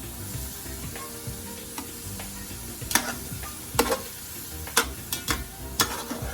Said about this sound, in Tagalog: as I saute the garlic and onions with the fats and skin of the pork